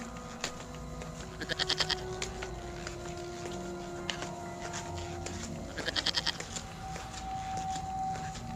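Goat bleating near a cave, two bursts of quick rhythmic bleats a few seconds apart, moderately loud over a steady ambient hum.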